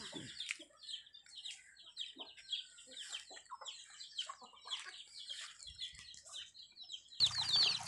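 Two newly bought farm hens cluck in soft, scattered bursts with faint chirping, fairly quiet and near, ending in a louder flurry that sounds like flapping wings.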